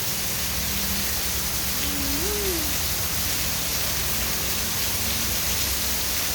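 Steady rain pours in a dense, unbroken hiss, loud and close, with a faint low tonal call briefly rising through the downpour.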